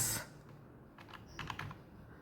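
Keys clatter on a laptop keyboard in a short burst of close, quick taps, alone with no talking.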